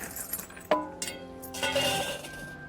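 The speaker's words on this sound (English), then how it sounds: "I better go and tidy these keys up" A bunch of keys jingling and clinking together as they are gathered up, with a sharp metallic chink followed by lighter rattles, close by and with no voices.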